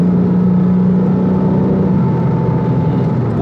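A Porsche Cayman S 987.1 pulls hard in fourth gear, its engine droning loudly and steadily from inside the cabin with a constant whirring tone as it accelerates, with no talking.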